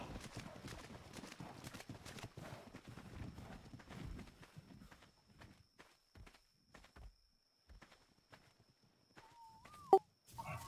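Horse hooves in the ARK survival game, a brisk run of close clip-clop steps that slows and scatters into separate footfalls, then a short whinny-like call near the end.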